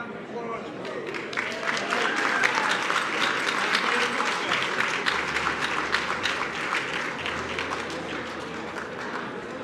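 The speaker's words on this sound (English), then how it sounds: "How about a round of applause for you?" Audience applause at a portrait unveiling for the 68th Secretary of State, steady dense clapping that holds for nearly ten seconds at a moderate level with no speech over it.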